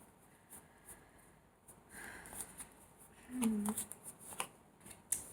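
Tarot cards are shuffled in short riffling bursts and taps, close and fairly quiet, with brief pauses between.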